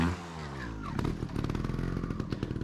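A dirt bike engine revs up under throttle for a wheelie, the pitch climbing quickly into a loud, rough, pulsing roar that holds near and strong.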